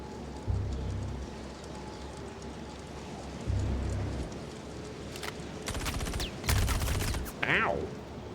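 Gunfire in the sci-fi video game Star Citizen: a short cluster of sharp shots midway, fairly faint over a low rumbling background, followed by a brief squealing sound.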